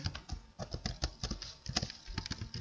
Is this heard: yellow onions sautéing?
no